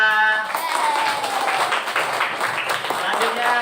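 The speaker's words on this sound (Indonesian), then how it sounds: "tepuk tangan untuk Rasika" Classroom students applaud in a dense patter, with voices talking over the clapping throughout.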